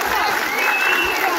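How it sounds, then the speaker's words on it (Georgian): Audience applause at an evening event, a dense, steady wash of clapping that runs the whole short stretch at close, even loudness. "გთხოვთ ერთმანეთს დაუბრალთ აპლოდისმენტები"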